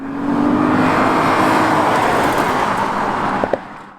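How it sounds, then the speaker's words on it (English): A 2011 Lexus GS 450h hybrid with its engine and exhaust pulling hard under acceleration through an eCVT transmission, a steady rising drone that fades out at the end, with a couple of short knocks near the finish. "With the intake and exhaust present on this example, the car actually sounds pretty exceptional for a hybrid."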